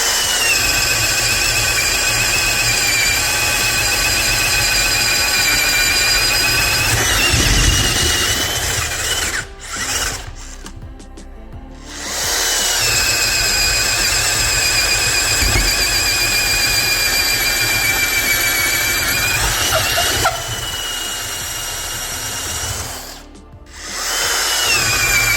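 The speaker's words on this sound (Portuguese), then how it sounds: "Nesse momento a gente está usando a última broca, né? Talvez a mais difícil aí, que é a broca serpentina de 35 milímetros." A DeWalt DCD130 drill bores with a 35 mm auger bit, a loud, strained motor whine with steady grinding that runs for long stretches, broken by two short pauses where the bit stops before boring resumes.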